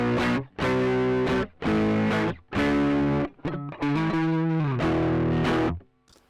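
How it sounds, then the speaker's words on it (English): Electric guitar played through a Tube Screamer overdrive pedal into an Audient Sono interface, giving loud, fuzzy distorted chords in several sustained strums separated by short gaps, with no voice. "And if I was to turn the tube screamer on to make matters worse"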